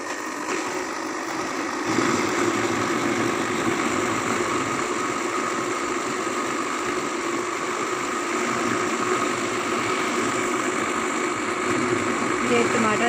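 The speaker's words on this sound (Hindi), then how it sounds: "ये टमाटर हमारे ब्लेंड हो रहे हैं, मैं इनको अच्छी तरह से ब्लेंड कर लूँगी।" An electric blender purees softened tomatoes for homemade ketchup, its motor humming in a steady, unbroken drone that grows slightly louder after the first couple of seconds and holds constant.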